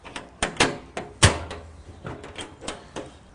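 Doors on a large two-section compost tumbler being handled, giving several sharp knocks and clacks at uneven intervals with one heavier thud, close by and with no talking.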